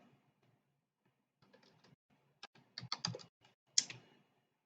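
Keystrokes on a computer keyboard while working in a Windows command line, coming as a few scattered clicks and then quicker bursts of typing, close and fairly quiet with nothing else in the background.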